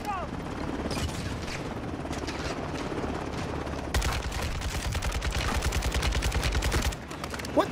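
Automatic gunfire in Call of Duty: Modern Warfare II, rapid loud bursts that turn into a dense fusillade over a droning helicopter, with people talking at times.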